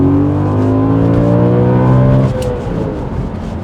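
A naturally aspirated 420-horsepower Audi RS4 accelerates hard at full throttle up through the gears, its engine note rising loud and close with clear pitch sweeps and a brief drop at a shift.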